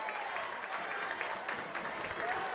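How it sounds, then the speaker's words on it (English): Lawrence County fans in a high school basketball gym clapping and stomping, a dense steady crowd roar heard at a distance with a faint sneaker squeak over it. "And now the Lawrence County faithful, of which there are aplenty, begin to clap and stomp"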